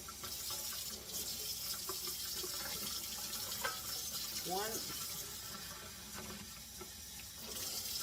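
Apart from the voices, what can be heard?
water from tap filling measuring cup for rice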